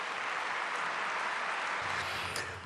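An audience at a Korean prayer meeting applauds to welcome a retired army division commander turned professor. The steady clapping is full and continuous, then tapers slightly near the end.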